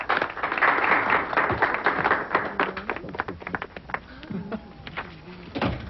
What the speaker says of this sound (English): The court wants to take the time to applaud her for that.